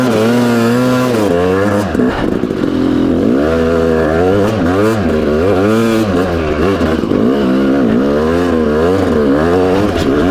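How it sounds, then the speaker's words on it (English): A motorcycle engine labors and revs while the bike rides through snow in the mountains, loud and close, its pitch rising and falling in repeated surges with a steady rattling undertone. "Who says motorcycles can't snowmobile?"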